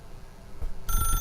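A telephone in The Stanley Parable rings with a bright electronic trill that starts suddenly partway through, loud and steady over low ambient rumble and a couple of thuds.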